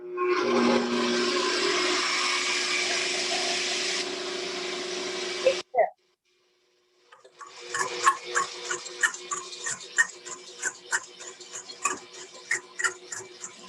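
An electric mixer whips egg yolks, whirring loudly and steadily for several seconds, cuts off, then brief clattering and bumping sounds follow with some background noise.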